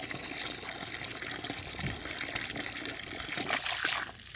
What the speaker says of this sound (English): Let me go ahead and fill it up with good water.